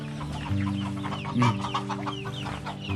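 Chickens cluck nearby in an orchard in rural Chiang Rai, Thailand, a steady stream of short calls, with a low engine-like hum running underneath.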